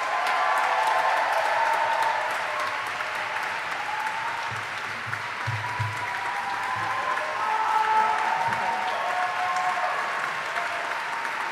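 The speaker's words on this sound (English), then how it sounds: "Please give him a big, big welcome and round of applause." A large audience applauds steadily for several seconds, a dense wash of clapping with a few cheers mixed in.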